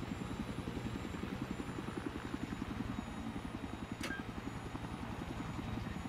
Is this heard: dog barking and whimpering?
no